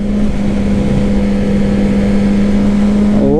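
Steady drone of a Honda motorcycle engine while riding, a constant loud hum with wind noise and a brief rise in pitch at the end.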